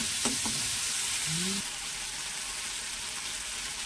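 Ginger and salt frying in a hot pan for a peas and paneer dish, a steady close sizzle with a couple of brief stirring clinks early on, the hiss easing slightly partway through.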